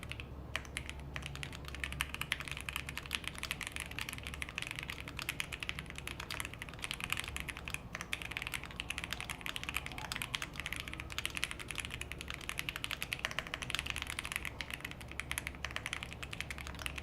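Rapid, continuous clatter of computer keyboard typing during a TypeRacer race, fast dense keystrokes running steadily throughout at close range with no talk.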